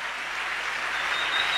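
Church congregation clapping for the pastor during a service, a dense, steady wash of applause that stays even and fairly loud throughout, with no voices standing out.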